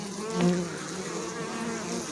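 Honey bees from a healthy colony buzz at the hive in a dense, steady drone of many wings, with one bee humming louder as it passes close by.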